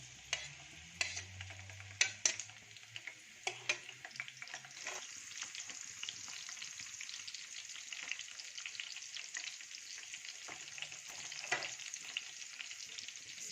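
Chopped garlic fries in a hot oil tadka for masoor and moong daal, a soft steady sizzle with occasional clinks and stirring scrapes, close but quiet, without speech.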